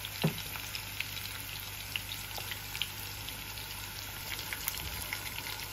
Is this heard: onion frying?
yes